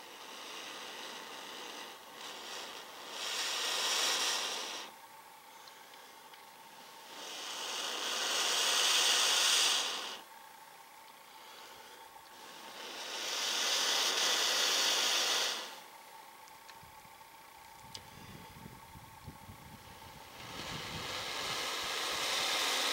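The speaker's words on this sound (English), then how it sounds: "I know you guys might be sitting there thinking, man, this guy's blowing really hard." Hard, sustained breaths blown onto smouldering jute tinder to coax a fire alight, heard as four long, close, breathy rushes of several seconds each with quieter gaps between them.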